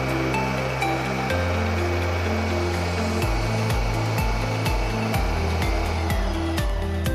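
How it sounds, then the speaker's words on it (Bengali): An electric mixer chopper running at speed 1 while whole onions are dropped in one at a time, a steady whirring motor hum broken by repeated chunky thumps and dips in pitch as each onion is chopped, close and loud with no talk. "দেখুন, আমি এটা মিক্সিটা চালু করব, চালু করে একটা করে পেঁয়াজ দেবো।"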